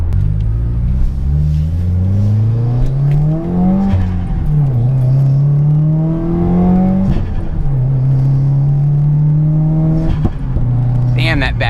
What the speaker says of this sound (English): Damn, that backfire.